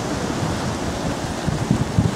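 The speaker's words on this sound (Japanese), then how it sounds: "今日はね、こういうね、海にやってきております。" Sea waves and surf at the seaside make a steady wash of broadband noise with some wind rumble, and a few soft surges toward the end.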